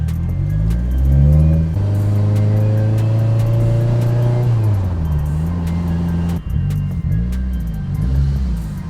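A Mitsubishi Lancer Evo 8 car engine runs loudly and close, its pitch rising and falling as it revs, with a steady rumbling drone throughout.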